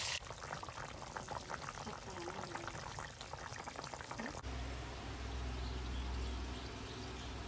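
Fish lightly frying in oil, a steady close crackling sizzle that runs throughout, changing texture partway through as the pan settles into a lower, bubbling hiss.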